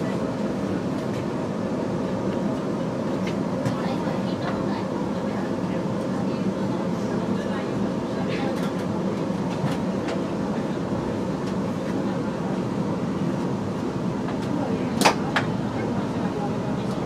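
A train runs between Canley and Coventry with a steady interior rumble and rolling rail noise throughout, plus occasional clicks and a brief squeal near the end.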